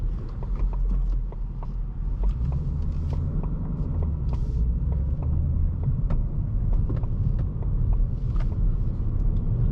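A 2019 Ford Mustang Bullitt with a V8 and a six-speed manual idles and creeps with its exhaust in quiet mode, a low steady rumble with faint clicking ticks above it.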